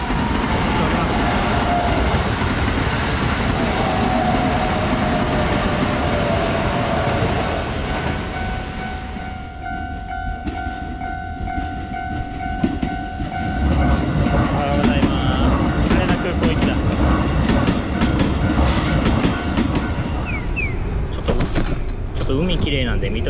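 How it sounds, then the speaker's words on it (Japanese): A train rumbles past close by at Kanazawa-Hakkei Station, Japan, steady clatter of wagons over rails lasting a long stretch, with squealing brakes and clicks as it slows. "電車せっかくなんで見てみましょう"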